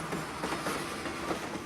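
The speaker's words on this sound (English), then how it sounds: "the wheels of the electric train babbled like a laughing idiot as they ground the" Electric train wheels clatter over rail joints in a rapid, rhythmic clickety-clack that holds steadily at moderate loudness throughout the short stretch.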